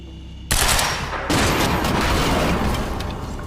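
Gunfire in the game Quantum Break: after a brief quiet moment, loud heavy shots erupt into a dense, sustained barrage, with a second burst and rumbling impacts continuing to the end.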